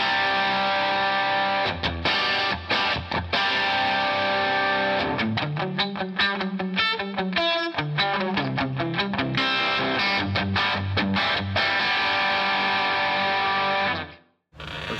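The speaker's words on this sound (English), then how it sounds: "Let's try coil tapping real quick and see what kind of rock sound like that we get with a single coil tone." A PRS SE Custom 22 semi-hollow electric guitar plays a distorted rock riff in coil-tapped single-coil mode, with chugging chords, brief gaps and a bending lead passage before it cuts off abruptly.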